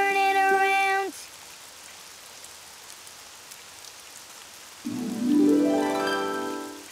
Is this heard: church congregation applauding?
no